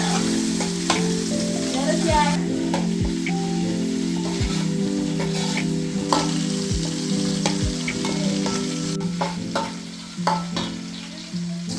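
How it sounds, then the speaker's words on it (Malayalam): Garlic and ginger fry in a pan with a loud, steady sizzle, broken by spatula scrapes and stirring clatter and a few sharper knocks, recorded up close in a home kitchen with no clear talking. "വെളുത്തുള്ളി ഇഞ്ചി നല്ലോണം ഇതാ മൂത്ത് വന്നിട്ടുണ്ട്."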